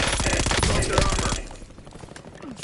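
Rapid automatic gunfire in a Call of Duty match, loud and dense for the first second and a half, then giving way to quieter game noise and scattered shots.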